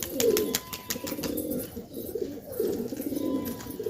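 Close, low cooing from Madrasi pigeons at a home loft comes in rolling throaty swells, with sharp ticking clicks near the start.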